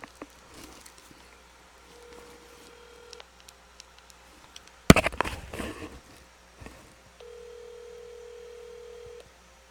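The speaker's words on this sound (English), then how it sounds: "Let me call Corey real quick." Telephone keypad tones as a number is dialed, faint single beeps spaced out, a steady ringback tone, a rustling handling noise midway, then another steady tone.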